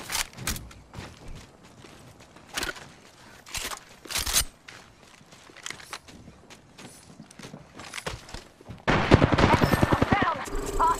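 Gunfire in the video game Apex Legends: scattered sharp shots and footsteps, then a loud rapid automatic burst at the end, with a voice speaking over parts of it.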